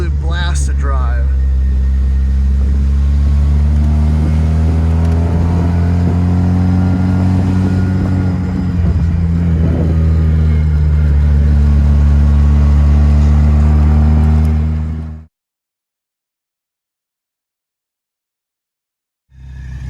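A 1982 Fiat Spider 2000 Abarth engine pulls hard while driving, a loud, steady mid-pitched drone that rises through acceleration for about fifteen seconds before cutting to silence, with a brief return at the very end.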